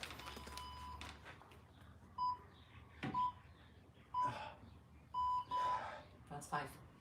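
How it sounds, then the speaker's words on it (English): Electronic workout interval timer giving a series of short, clear beeps at irregular intervals during a strength-training session, with background movement and breathing. "There's gonna be beeps, guys."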